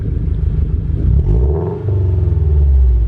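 A Subaru BRZ engine fitted with loud aftermarket headers, revved and held near 3,000 RPM: a loud, close, raspy exhaust drone that dips briefly before settling back into a steady growl.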